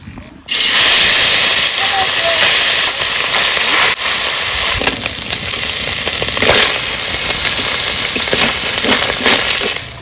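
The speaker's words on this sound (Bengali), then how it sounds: "প্রথমে ছোট মাছগুলো ভেজে নেবো, তেল দিয়ে দিই" Small fish frying in hot oil in a home kitchen, a loud, steady, crackling sizzle that bursts in abruptly after half a second and continues with scattered pops for the rest of the clip.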